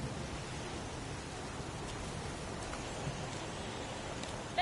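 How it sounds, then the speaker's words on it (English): Steady, dense rain pours without pause in the Heavy Rain video game, a constant broadband hiss of drops holding level throughout with faint patters on top. "It's pouring rain."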